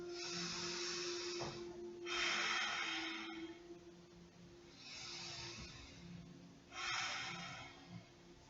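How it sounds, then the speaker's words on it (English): Deep breathing during a yoga spinal release, four slow audible breaths with quiet pauses between them, close and soft, a faint steady hum underneath and no talk. "taking a couple of deep breaths"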